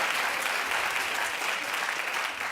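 Studio audience clapping on a talk show, a dense steady wash of many hands at even loudness, fading slightly near the end.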